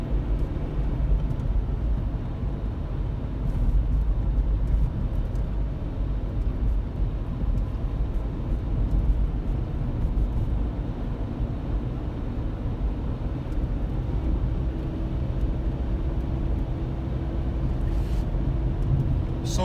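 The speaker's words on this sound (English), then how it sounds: "Now let's take it for a drive." A Ford Escape driving on the road after front end and brake repairs, giving a steady low road and engine rumble with tire noise throughout, no talking.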